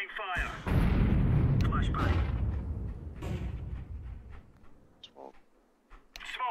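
Incendiary grenade fire in the shooter CS2, a loud roaring burst that erupts and rumbles for several seconds, then fades, with voices talking over it.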